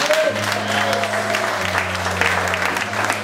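A church congregation applauds steadily in a worship hall, broad clapping under a sustained musical drone, with a voice speaking over it.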